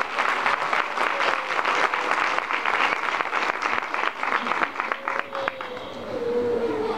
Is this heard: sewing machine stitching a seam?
no